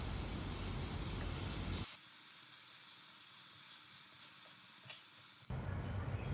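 Minced onion, ginger and garlic sauté in a pan over a medium flame, giving a continuous hissing sizzle that drops abruptly to a softer level midway, then returns at full strength.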